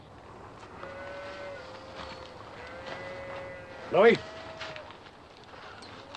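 Cattle moo in a 1950s western film scene with a cattle herd: one loud, rising moo stands out midway above a low background hum, while faint voices speak earlier in the scene.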